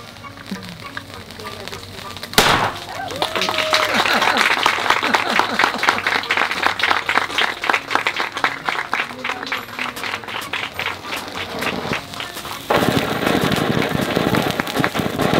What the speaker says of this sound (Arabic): جابوني طراطيع